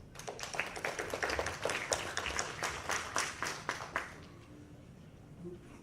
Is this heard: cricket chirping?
no